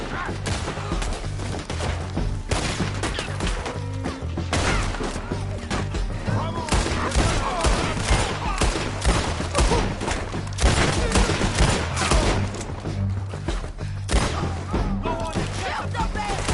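Continuous rapid gunfire from a Red Dead Redemption 2 shootout, dense overlapping shots and bursts pounding without pause, with a voice faintly mixed in under the barrage.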